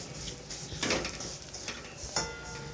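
Vermicelli is being roasted in a pan for kheer, with a spoon scraping and stirring through it in short repeated strokes over a steady low hiss, close by; nobody speaks.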